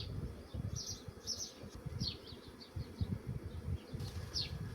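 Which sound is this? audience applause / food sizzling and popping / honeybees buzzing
honeybees buzzing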